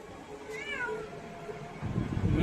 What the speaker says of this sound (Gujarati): ક્યાં મીંદડી? મ્યાઉ.